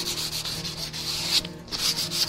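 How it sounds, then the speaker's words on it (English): Steady rhythmic sanding strokes rubbing back and forth across chalk-painted wood, close and continuous with a brief pause near the end. "so all this sanding is not difficult at all"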